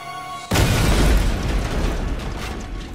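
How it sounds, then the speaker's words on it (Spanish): A bomb explosion sound effect bursts suddenly after a brief quiet moment, a loud close boom that rolls on into a long rumbling decay. "La explosión fue la más espantosa hasta entonces."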